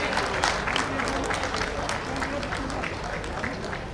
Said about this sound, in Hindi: एक जोरदार तालियों की आवाज आप सभी लोगों की तरफ से।